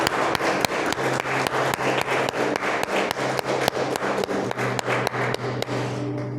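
A church congregation applauding during a sermon, clapping in unison with a steady, even beat that carries on for several seconds, along with a low sustained tone and a faint voice.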